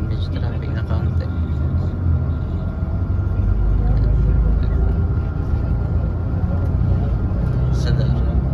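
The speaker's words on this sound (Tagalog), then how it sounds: "Medyo mabagal nga lang ang takbo ng sasakyan dahil" Steady low rumble of a bus moving slowly through traffic in Zadar, Croatia, a continuous loud drone of engine and road noise with voices talking over it throughout.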